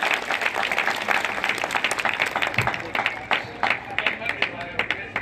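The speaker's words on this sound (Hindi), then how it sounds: "तालियां।" Applause from a small audience after a first-prize gold win is announced, a sustained patter of close clapping that holds steady for several seconds, with some talk under it.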